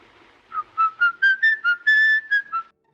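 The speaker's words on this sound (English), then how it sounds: "A weak, raspy whistle, slightly off-key, almost careless, and yet this sound terrified audiences nearly a century ago." A weak, raspy, slightly off-key whistled tune from an old Fritz Lang film, a string of short rising and falling notes, clear and alone, ending abruptly.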